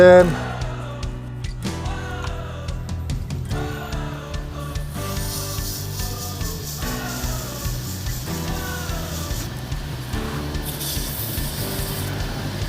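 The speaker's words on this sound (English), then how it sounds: "turn the lathe down a speed" Wood lathe turning an epoxy resin shaving brush handle, a steady motor hum with repeated scraping cuts of a tool against the spinning workpiece, close and continuous, slowing in pitch as the lathe speed drops.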